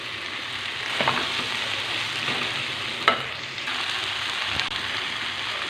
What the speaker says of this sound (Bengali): একটু ভাজা ভাজা করবো, তার মধ্যে এর মধ্যে দেবো হচ্ছে গিয়ে পেঁয়াজ আর রসুন